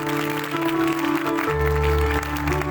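Audience applause rises at a live worship gathering to welcome a pastor, brief and steady clapping blended with sustained music tones underneath.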